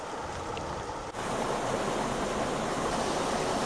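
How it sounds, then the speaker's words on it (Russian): A small mountain river runs beneath a little road bridge near Skalistoe, giving a steady, close rushing wash of water that barely changes, with one brief dip early on. "Переезжаем небольшой мостик через речку."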